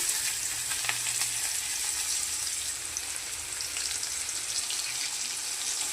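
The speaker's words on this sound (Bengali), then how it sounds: "আর পেঁয়াজটা ভাজা চলছে" Chopped onion frying in oil with whole cumin seeds, a steady dense sizzle with a bright crackling hiss that holds evenly throughout, with no voices.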